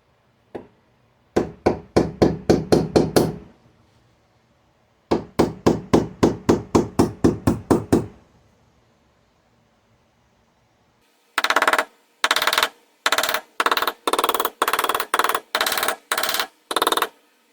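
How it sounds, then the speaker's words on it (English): Bursts of rapid hammer taps ring against metal reinforcing plates on a BMW E46 rear subframe, several quick series of blows separated by pauses, the last set sharper and more spaced. "I'm going to use a hammer to gently caress the reinforcing plates until they have a nice snug fit"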